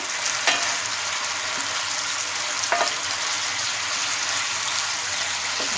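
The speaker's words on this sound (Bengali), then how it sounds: "আমি ভালো করে নেড়ে চেড়ে মিশিয়ে নিচ্ছি" Chicken frying over medium heat in a pan, a dense, continuous sizzle with a few faint spatula scrapes while it is stirred and mixed, close and steady.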